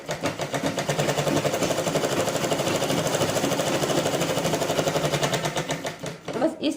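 A sewing machine stitches a blouse in a fast, even, steady run that stays loud and close, then stops briefly near the end.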